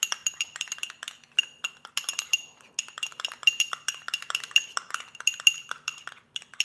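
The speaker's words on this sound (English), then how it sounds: "Just going to stir that up." A spoon stirring mayonnaise dressing in a bowl, producing rapid, irregular clinks and taps against the bowl in quick bursts, close and fairly crisp, with no speech.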